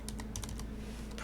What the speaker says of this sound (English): every time it's pressed, and you hear my keyboard spamming